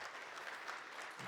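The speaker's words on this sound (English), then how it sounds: "come on for the applause" Audience applause at a talk on cargo crime and security in Spain and Portugal, a steady, dense wash of many hands clapping close by with no voices.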